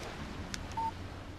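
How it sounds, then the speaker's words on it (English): Text message alert from a phone in the video game Alan Wake, a single short electronic tone, faint against a quiet background hiss. "Text message from Barry."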